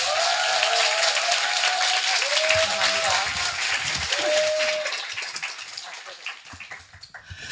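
An audience at a business seminar gives a loud, dense round of applause to welcome a speaker to the stage, sustained for several seconds before tapering off slightly at the end.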